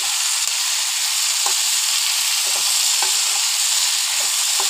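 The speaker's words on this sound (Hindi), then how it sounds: "ये हमने टमाटर के सॉफ्ट होने तक पकाना है।" Tomatoes cooking down in a kadhai pan, a constant loud sizzle with light intermittent taps and scrapes of a stirring spoon, no voices.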